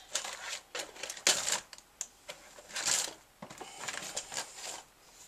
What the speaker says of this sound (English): I'm going to do this with my paper trimmer